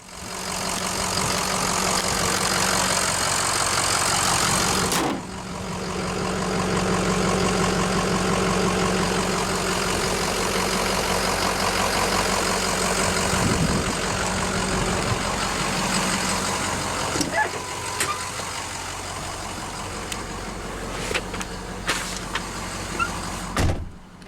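A 2007 Ford F-350 Super Duty Lariat crew cab with the 6.0L diesel idles after start-up, a steady low rumble broken by a door slam early on and scattered clunks and clicks later, with no talking.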